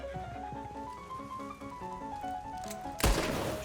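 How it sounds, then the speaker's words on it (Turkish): Fire-ammo gunshots ring out in Red Dead Redemption 2, a single sharp loud blast near the end over a bed of steady game music. "Fire Ammo ne işe yarıyor? Şöyle göstereyim. Hem alevli silah oluyor."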